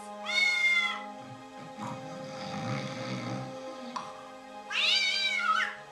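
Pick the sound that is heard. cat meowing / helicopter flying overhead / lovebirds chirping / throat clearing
cat meowing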